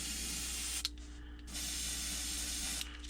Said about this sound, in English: Just a little bit of overspray.